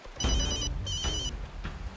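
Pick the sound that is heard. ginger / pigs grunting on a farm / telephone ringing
telephone ringing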